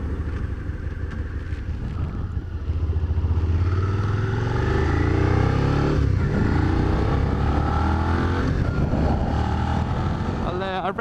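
A 2016 Suzuki SV650 motorcycle on a test ride revs up and down close by, rising and falling engine tones with a gear change, under steady wind buffeting on the microphone.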